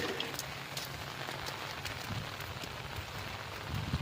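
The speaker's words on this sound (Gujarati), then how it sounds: "પવન વધારે આવે છે, વરસાદ ઓછું આવે છે" Steady rain falling on surfaces with a broad, continuous wash of noise and occasional louder drops, with gusty wind adding low rumble; close and fairly loud throughout, no voices.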